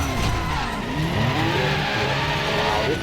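A McLaren F1 sports car drives hard, with a dense, continuous roar of engine and road noise and a rising and falling engine pitch throughout, loud and close.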